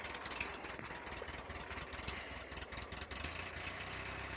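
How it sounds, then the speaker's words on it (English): A Toyota 2.2L diesel engine idles while warming up, giving a steady, rough, continuous rumble with a fine clattering texture, close and unbroken. "Now I'm going to put the throttle up a little bit until it warms up."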